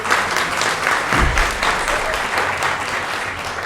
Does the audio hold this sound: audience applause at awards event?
yes